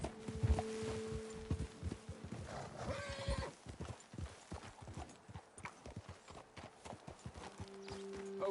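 Horses in the video game Red Dead Redemption 2 clop along at a steady walk, with a whinny near the start, while soft music plays in the background.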